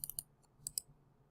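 A few light computer mouse clicks, close and quiet, with a quick pair near the start and two more a moment later against near silence.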